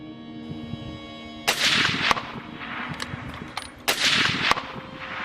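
Rifle gunshots during a wild buffalo hunt in Australia, two sharp, loud cracks with booming echoes a couple of seconds apart, against an outdoor background with a steady tonal hum.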